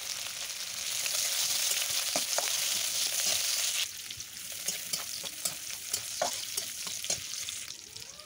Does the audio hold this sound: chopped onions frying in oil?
yes